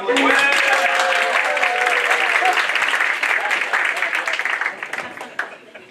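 Audience applause at a French-language conference on building emotionally healthy relationships. Loud, dense clapping fills the room with talk over it, then thins out near the end.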